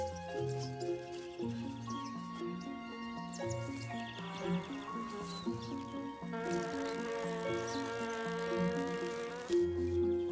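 Bees buzz faintly around flowers, their drone wavering and shifting in pitch over a quiet, continuous backdrop.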